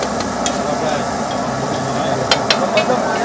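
Tomato masala frying in peanut oil at a street food stall in Bharuch, India, a steady close sizzle with light stirring and a few sharp scrapes near the end.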